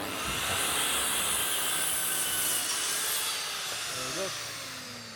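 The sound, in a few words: cutting a conservatory box gutter end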